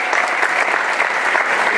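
A crowd applauds with dense, steady clapping that fills the whole moment, at an awards ceremony for the Modena volleyball team.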